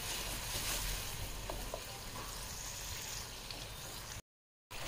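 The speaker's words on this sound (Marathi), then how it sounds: "प्युरी छान घट्ट होऊन त्याला तेल किंवा लोणी सुटेपर्यंत ती छान परतून घ्यायची आहे" Tomato puree thickening and sautéing in oil and butter for restaurant-style dal makhani, a steady soft sizzle with faint stirring scrapes, moderately quiet and continuous, then cut off by a brief silence near the end.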